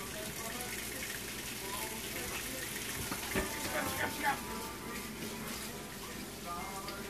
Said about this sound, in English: We wash our hands when we cook